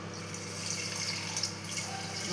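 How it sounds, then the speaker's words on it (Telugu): Water running and splashing steadily into a cooking pot, a continuous watery pour at moderate level with no talk over it. "కొంచెం వాటర్ని యాడ్ చేసుకోవాలి"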